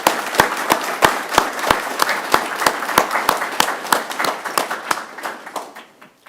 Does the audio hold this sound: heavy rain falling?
no